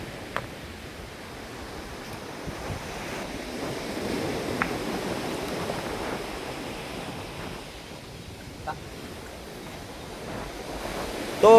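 Ocean waves wash in a steady, broad rush with some wind noise, fairly soft and unbroken, no voices.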